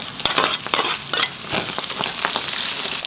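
Pork intestines fry with spices in an iron wok, giving a bright, continuous sizzle broken by repeated scraping stir strokes and light metallic clinks close by.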